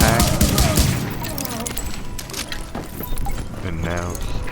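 Dense gunfire and explosions fill a firefight in The Division video game, with rapid bursts and booms overlapping throughout, while a voice talks over the action.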